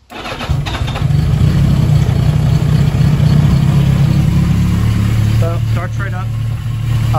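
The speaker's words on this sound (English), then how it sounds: "So I'll start it up once more for you guys." A Yamaha XJ750 Seca motorcycle engine cranks and catches within the first second, then settles into a loud, steady, close idle that holds for several seconds.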